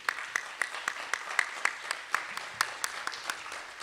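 A modest audience at a community college history lecture gives a round of applause for the volunteers, with sparse, distinct claps at a moderate distance rather than a dense roar.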